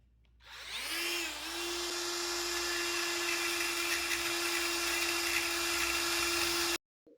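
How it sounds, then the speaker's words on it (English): A die grinder fitted with a Kutzall bit carves wood for a pedestal table base, spinning up into a loud, steady high-pitched whine that holds for about six seconds with abrasive grinding texture, then cuts off abruptly, with no talking. "This is actually a die grinder with a Kutzall bit in it, and it works nice for those tight crevices"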